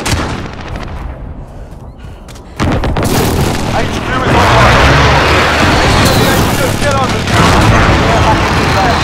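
Airstrike explosions hit in Modern Warfare on the Euphrates Bridge, starting with a sudden loud blast and giving way to sustained heavy rumbling booms and debris over a busy battlefield, with a voice talking faintly beneath.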